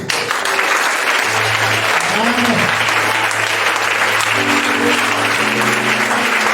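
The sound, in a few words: church congregation applauding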